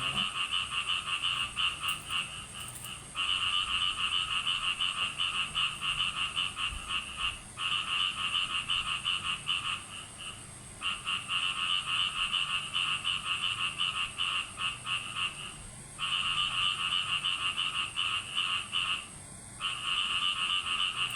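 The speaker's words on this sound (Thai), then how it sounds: "นั่งฟังเสียงกบเสียงเขียดพี่น้อง" Frogs croak at night in a dense, continuous chorus of high rattling calls that drops out briefly a few times, with a faint rustling background and no voices.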